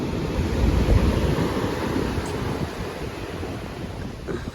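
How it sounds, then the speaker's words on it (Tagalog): Strong ocean waves surging near the shore, a rumbling wash of surf mixed with gusting wind buffeting the microphone, heaviest early on and easing slightly later. "Ang lakas po ng alon"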